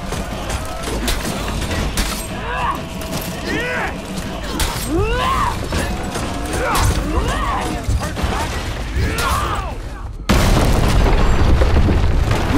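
A battering ram batters a castle gate during a For Honor assault match, with heavy booming impacts and creaking mechanisms among battle shouts and clamor, ending in a sudden louder crash as the gate gives way.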